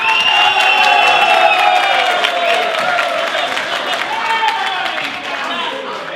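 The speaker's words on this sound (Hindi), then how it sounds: "तो जोरदार तालियों से जय भवानी को हम स्वागत करते हैं।" Loud, sustained applause from an audience welcoming a new kirtan group at a Selwyn Indian community kirtan night in Christchurch, dense steady clapping with crowd noise that fades slightly toward the end.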